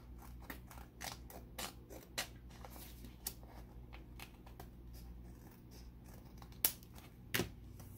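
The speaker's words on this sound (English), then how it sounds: "I can trim that off using my scissors" Scissors trimming a paper overhang on a handmade upcycled Christmas card, a series of crisp, close snips spaced unevenly apart with short quiet pauses between cuts.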